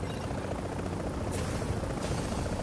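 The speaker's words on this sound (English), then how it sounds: "Chopper is inbound. Cargo pickup underway." Helicopter arriving for a cargo pickup in the video game The Division, a steady loud rotor drone with buzzing whine that fills the whole stretch without a break.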